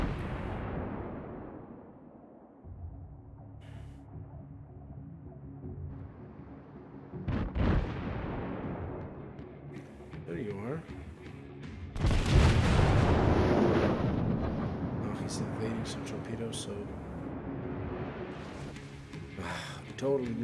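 Main guns of a Japanese Kongo-class battleship fire in World of Warships, heavy booming salvos that roll out into long rumbling echoes, with ocean and engine ambience and a voice talking at times.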